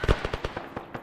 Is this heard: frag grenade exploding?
yes